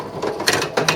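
A bingo pinball machine's shutter cycling open to drop the balls, heard as close mechanical clicks and ratcheting clatter, with sharper snaps about halfway through and again near the end.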